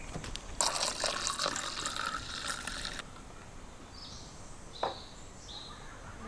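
A drink is poured at a shashlik feast with friends: a brief splash of liquid filling a glass for a couple of seconds, followed by faint clinks in a quiet room.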